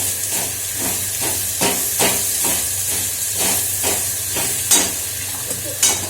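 Whole potatoes fry in hot oil with browned onions, giving a continuous sizzle broken by repeated scraping strokes of a metal spatula at a fairly regular pace.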